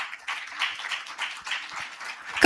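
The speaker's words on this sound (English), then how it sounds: "We need to be much more better with that applause as Mr. Balsara joins us." Conference audience clapping and applauding, a dense steady patter of many hands at moderate loudness lasting a couple of seconds, ending in a sharper burst.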